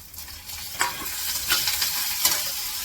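Curry leaves hit a little hot oil with garlic, giving a bright, continuous close sizzle with several sharp spitting bursts, no voices.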